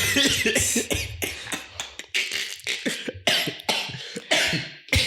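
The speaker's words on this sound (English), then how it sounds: "Don't make me laugh again, because I'm coughing." A person coughs repeatedly in short, harsh bursts with brief gaps between them, close and fairly loud, over a few seconds in an indoor setting.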